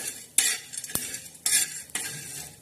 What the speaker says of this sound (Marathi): डाळ आणि थोडीशी बाजरी घ्यायची, ही सुद्धा आपण भाजून घेणार आहोत.